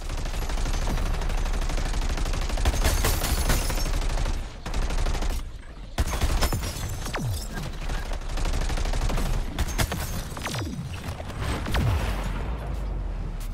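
Sustained heavy gunfire from the fear gun in Suicide Squad: Kill the Justice League, loud, dense bursts of rapid shots with brief pauses near the four- and six-second marks, layered with explosions and game effects.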